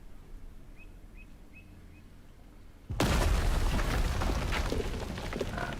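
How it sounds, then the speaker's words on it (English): A bunker in Sniper Elite 5 blows up in a sudden loud blast that follows quiet ambience with faint bird chirps, then a long rumbling roar of debris fills the rest. "There was supposed to be a big kaboom."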